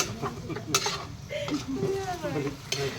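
Lechon kawali, chunks of pork belly, sizzling as they fry in a pan, with steady crackle, stirring scrapes and pan clatter under nearby voices talking.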